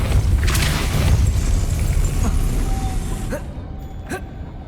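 The Depulso force spell is cast in the wizarding game Hogwarts Legacy: a loud, rumbling, booming surge that holds for several seconds, then thins into a few lighter magical swishes and chimes.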